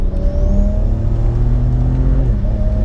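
A BMW 335i Touring tuned to 539 bhp pulls hard in its gears, a loud, steady, close engine drone that climbs in pitch and then drops sharply at a gear change near the end.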